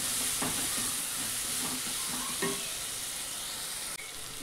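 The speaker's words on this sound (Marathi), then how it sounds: "लसूण आणि मिरची कच्ची नाही राहिली पाहिजे, म्हणून याच्यात आधी चांगलं परतून घ्यायचं याला" Garlic and chilies stir-fried in a pan for a pumpkin bhaji, giving a loud continuous sizzle with rhythmic scraping strokes of the spatula, close and without talk.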